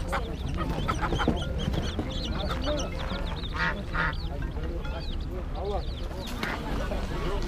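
At a spring poultry bazaar selling chickens, roosters, ducks, turkeys and pigeons, many birds cluck and quack in an ongoing chorus while people talk nearby.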